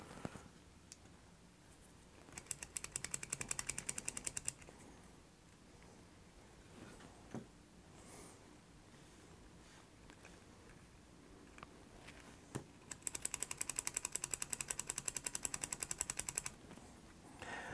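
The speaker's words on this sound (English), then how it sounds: "So one way to deal with a dirty switch is to just load it full of alcohol and run it back and forth a few times." A dirty Game Boy power switch, soaked with cleaning alcohol, is flicked rapidly back and forth, producing two fast bursts of close, sharp plastic clicking separated by a quieter stretch with a few isolated clicks.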